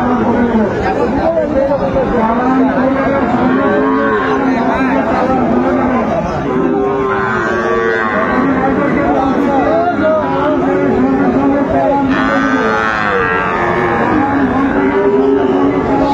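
Sahiwal cattle moo repeatedly at a busy cattle market, the calls rising over a constant wash of crowd chatter and nearby talk.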